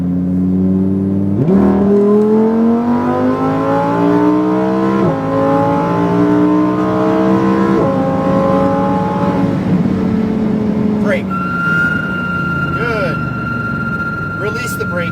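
A Lamborghini STO accelerating hard on a race track, its engine climbing through rising revs with several gear shifts, loud and close inside the cabin, while an instructor talks over it.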